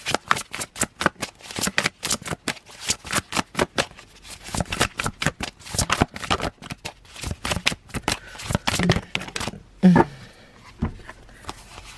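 A deck of tarot cards being shuffled up close, rapid riffling and flicking bursts in quick rhythm with a few brief pauses, fairly loud and alone without any talking.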